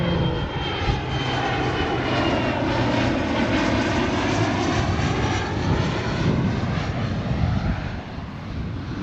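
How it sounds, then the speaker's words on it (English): A private jet passes overhead, a loud continuous roar that swells and slowly shifts in pitch as it goes by, with a broad rushing wash filling the whole stretch and no speech. "Oh, this one is private. Look, private jet."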